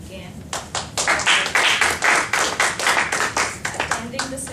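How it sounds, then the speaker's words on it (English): A small audience at a Toastmasters session claps, with distinct, slightly uneven handclaps building quickly and continuing steadily for several seconds with a loose rhythm. "I want you to applause for Ashok again."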